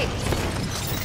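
A grenade explosion in the Warzone video game: a dense, steady rumbling blast that fills the short clip at moderate loudness.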